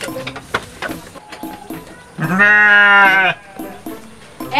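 A sheep gives one loud, drawn-out bleat in the middle, up close, amid shuffling farm noises and other short animal calls.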